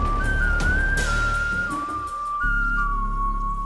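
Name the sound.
person whistling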